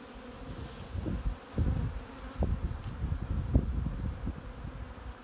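Bees buzz around beehives outdoors, a steady low drone with individual insects swelling as they pass close, under light background noise and no talking.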